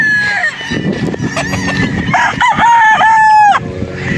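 Bulik gamefowl roosters crow loudly and close on a farm in Padre Garcia, Batangas. Several overlapping cock-a-doodle-doo calls rise and fall, with clucking and other farm birds around them.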